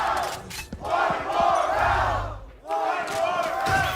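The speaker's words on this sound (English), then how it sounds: "I think that's the first time I've ever heard the crowd rooting against Sentinels" An esports arena crowd at a Valorant match roars and chants in swelling waves, two big surges separated by a brief lull, loud and close.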